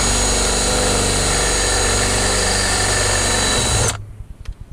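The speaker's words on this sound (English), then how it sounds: "take about a 1/2 inch drill bit and just come up under here and give it a light pressure" A power drill with a 1/2 inch bit drills out a rivet on a Corvette C7 Grand Sport splitter, whining loudly and steadily for several seconds, then stops suddenly, leaving faint scattered knocks.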